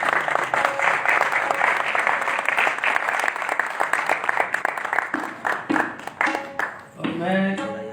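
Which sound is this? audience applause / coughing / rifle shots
audience applause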